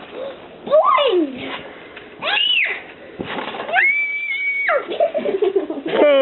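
Young girl screaming playfully while jumping, with several high, sliding shrieks and a long sustained squeal, close and loud, interspersed with an adult's nearby talk.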